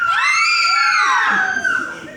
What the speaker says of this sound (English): His hip-swinging style made teenage girls scream.